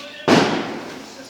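A single sharp firecracker bang erupts suddenly, followed by a crackling, hissing decay that fades over about a second.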